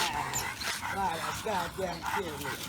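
Several dogs whimper and yip in rising, squeaky cries that overlap continuously, close and moderately loud against a noisy background.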